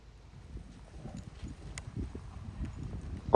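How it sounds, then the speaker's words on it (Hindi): A Marwari horse stamps and shifts inside a trailer, a run of dull irregular hoof thuds on the floor, fairly close but quiet, with a sharper knock at the end. "एक दो बार घोड़ा ट्रेलर में कूदता ज़रूर है"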